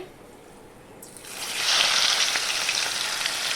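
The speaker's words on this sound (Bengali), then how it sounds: "দিয়ে এবার মাছটাকে দিয়ে দেবো।" Fish dropped into hot oil seasoned with whole garam masala breaks into a loud, steady sizzle after a quiet second, the hiss swelling and holding close up with no talk.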